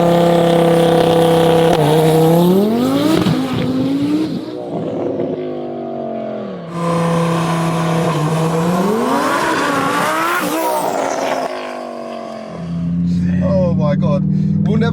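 A 1400HP Audi R8 screams through repeated hard accelerations, its engine climbing in pitch through the gears before lifting off the throttle, loud and close from inside the car, with passengers talking over the roar.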